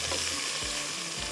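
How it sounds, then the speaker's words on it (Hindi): Onions fry with whole spices in a pot for khara masala, making a brief, steady close sizzle with a few soft low bumps. "यहाँ पर प्याज जो है हमारे फ्राई हो रहे हैं"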